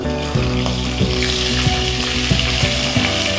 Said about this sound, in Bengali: এবার চিকেনগুলো দিয়ে দিচ্ছি।